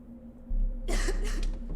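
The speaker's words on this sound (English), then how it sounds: "Who around me is coughing right now" A single short, sharp cough from the video game Pathologic 2 rises out of a quiet background with a faint low hum, close and fairly loud, no speech.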